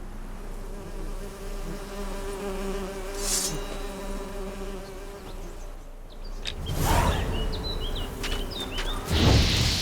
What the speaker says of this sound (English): Painted bees coming to attack me.